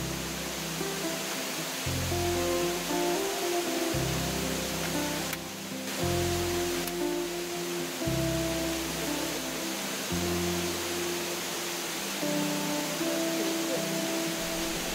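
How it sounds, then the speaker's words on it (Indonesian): A forest waterfall in Kalimantan, running slightly muddy just after rain, gives a steady, even roar for the whole stretch, with background music playing over it. "Kondisi air terjun sedikit keruh karena baru habis hujan."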